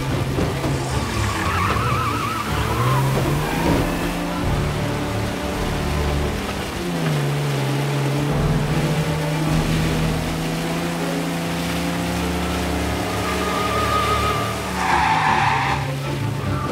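Tires screech and skid as cars race through a chase in Mafia Definitive Edition, a loud engine drone with long wavering squeals running throughout.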